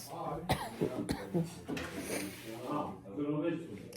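A couple of sharp throat-irritation coughs from a flu-like illness break out close to the microphone, mixed with throaty voiced sounds and a low murmur.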